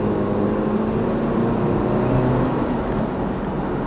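A Porsche Macan in normal mode accelerating from a 40 mph cruise, a steady broadband engine and road roar heard from inside the cabin, constant and fairly loud with no speech.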